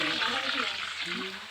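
Vegetables, carrots among them, frying in a pan while cooking for a Bengali funeral feast: a faint, steady sizzling hiss heard under soft background voices.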